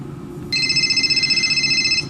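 A telephone ringing, a sustained electronic bell tone that starts about half a second in and keeps going loud and steady to the end, over a low background hum.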